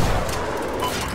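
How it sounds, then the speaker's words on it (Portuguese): Dense, continuous gunfire from a shooter video game forms a loud, steady wash of shots with no distinct gaps and no voice over it. "o cara tá dando tiro em cima"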